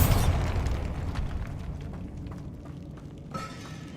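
A Bombarda blasting spell detonates in the Hogwarts Legacy video game, a loud boom bursting at the start and rumbling away, with a smaller pop near the end.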